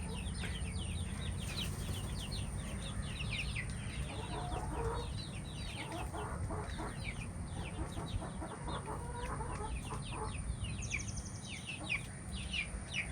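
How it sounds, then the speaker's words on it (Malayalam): Newly brought chicks and hens in a farm coop, with many soft peeping calls and repeated clucking in busy bursts, close and continuous, no talking. "എല്ലാവരും ഇന്ന് കൊണ്ടുവന്ന പുതിയ കോഴിക്കുഞ്ഞുങ്ങളാണ് കേട്ടോ"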